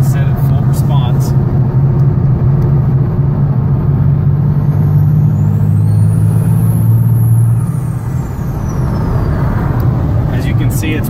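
A 12-valve Cummins diesel truck accelerates on cruise control set to full fueling response, a loud, deep engine drone heard from inside the cab, with its pitch rising steadily before easing off near the end.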